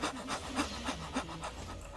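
A person imitates a dog with rhythmic, breathy panting, quick in-out huffs about three per second, close and fairly loud.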